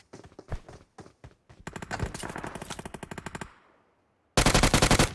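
Gunfire in PUBG Mobile: scattered single shots, then a dense rapid automatic burst, a short echoing pause, and a final loud rapid volley.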